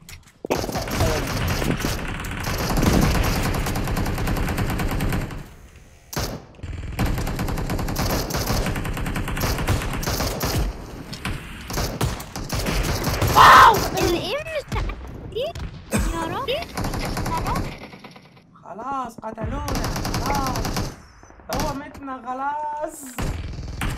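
Machine gun fire in a modded video game, coming in dense rapid bursts broken by short pauses, mixed with other game sounds while people talk excitedly over it throughout.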